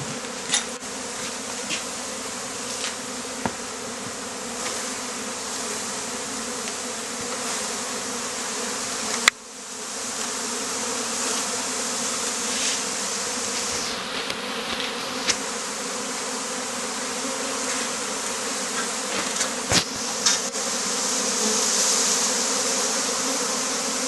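Honeybees fan and crowd into a new hive, a dense, steady buzzing drone close by, with scattered small clicks and taps and a sharper knock partway through.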